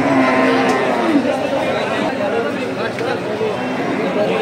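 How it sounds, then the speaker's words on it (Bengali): Cows and calves lowing at a busy cattle market, loud nearby moos over a constant murmur of crowd chatter and people talking. "দেখতে পাচ্ছেন সুন্দর সুন্দর গাভী সহ বাছুর সেই 7 মাইল গরুহাট থেকে"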